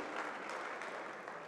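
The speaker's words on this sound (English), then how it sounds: "Folks, give them a nice round of applause." An audience at the Raiders Choice Awards ceremony claps steadily, a dense, even wash of applause that holds at a constant level throughout.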